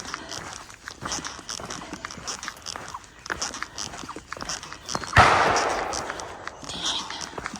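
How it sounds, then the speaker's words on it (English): Gunfire from a nearby firing range pops in scattered sharp reports, with one louder crack that rings out, heard over footsteps on a hiking trail. "We are really close to a firing range."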